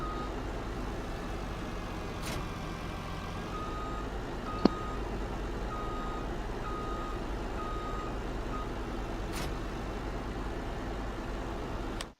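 A truck reversing in a farming video game, with a steady series of reversing beeps sounding over a constant engine drone, plus a single sharp click partway through.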